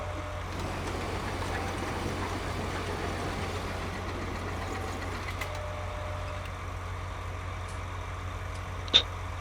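A tractor engine idles in the Farming Simulator video game, a low steady rumble under light ambient noise, with a brief sharp click near the end.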